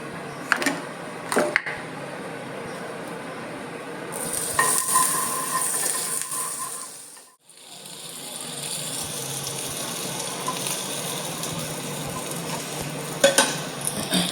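Butter sizzles in a frying pan over a low flame for egg toast, a soft close crackle with stirring scrapes that briefly dies away before resuming.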